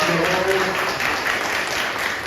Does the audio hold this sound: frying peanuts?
no